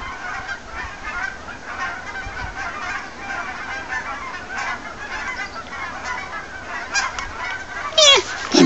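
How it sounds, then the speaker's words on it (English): Geese honk in the video game Captain Toad: Treasure Tracker, with a few loud, close calls near the end over a busy, bright background of game sound. "there's geese"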